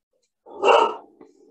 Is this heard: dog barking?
yes